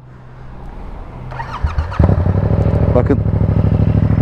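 A Honda CB650R motorcycle cranks and fires up close by, then settles into a loud, throbbing idle with a couple of revs, while someone says a single word just before it catches.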